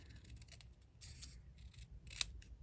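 Scissors trim a stamped paper greeting card for crafting. The snips are faint and close, spaced out and irregular, with one sharper cut near the end.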